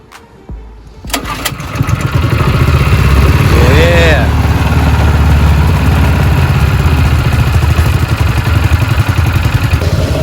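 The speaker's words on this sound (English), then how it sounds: "now that the engine is running, the wheel is moving, and in turn, it's driving the paddles on the inside" A small engine on a lawn care spray rig starts with a pull, then runs loud and steady at a fast idle for several seconds, close to the microphone, with a brief voice over it.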